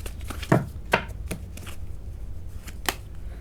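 Tarot cards are picked up and shuffled close by, making a few crisp slaps and riffling flicks at irregular intervals over a quiet background.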